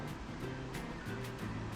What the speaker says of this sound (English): looking back at the dam, the water rushing out